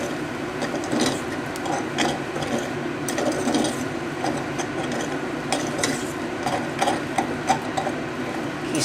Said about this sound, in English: I'm just going to fluff it up with a fork.